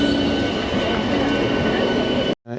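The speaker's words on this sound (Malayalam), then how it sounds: "ഇപ്പോൾ ട്രെയിൻ അത് മൂവ് ചെയ്തു" A train moving off from a station in Kerala gives a steady loud rail rumble with a faint squealing whine over it, ending abruptly.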